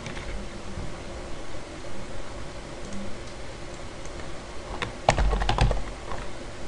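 Keys on a computer keyboard clatter in a steady typing run, faint and close over a hiss of background noise, with a brief louder burst of clicks near the end.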